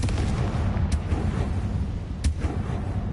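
Confringo blasting-spell explosions in the video game Hogwarts Legacy, heavy rumbling booms with two sharp bursts amid continuous low battle noise, loud and close with no talk.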